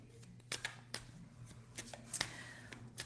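Quiet riffling card shuffles with several crisp snaps and flutters, irregularly spaced over a low steady hum.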